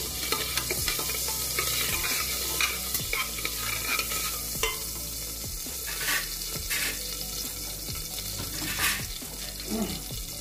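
Cumin frying in a pan for Indian-style lentils: a continuous close sizzle with frequent scraping and stirring knocks and a few brighter bursts of crackle.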